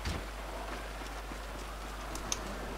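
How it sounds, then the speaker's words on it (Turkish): Rain falls steadily in the video game GTA 5, a soft even hiss of drops on surfaces with a low constant hum underneath and one faint tick near the end. "Hava yağmurlu. Çok gerçekçi yani."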